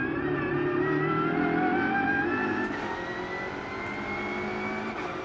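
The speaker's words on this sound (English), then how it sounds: "Yeah, you're just hearing the transmission, you know, on the downshifts." A race car's transmission whines through downshifts under braking into a turn at the 2022 Grand Prix de Trois-Rivières street circuit. Layered engine and gear tones sweep gradually downward, loud and continuous, easing slightly partway through.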